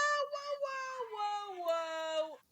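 A cat gives a drawn-out, wavering meow close to the mic, rising and bending in pitch over a couple of seconds before breaking off, with a short sharper note at the very end.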